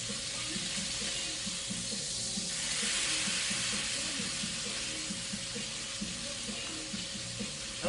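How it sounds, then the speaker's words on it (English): Meat frying in a pan, likely a burger patty: a steady, dense sizzle with crackling spatter, continuous and close, with no talking. "I'll flip this once again, put the salt on, let it cook."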